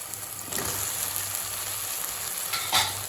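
Tomatoes sautéing in a pan give a steady close sizzle, with two brief scraping stirs, one early and one near the end.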